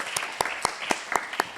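Audience applause in a lecture hall after the introduction of a scientific talk, steady dense clapping with sharper individual claps standing out at a regular pace.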